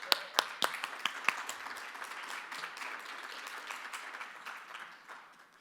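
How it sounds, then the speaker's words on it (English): A debate audience applauds the congressional candidates: several sharp, distinct claps at first, then a fuller round of clapping that gradually thins and fades out toward the end. "Let's give them another round of applause."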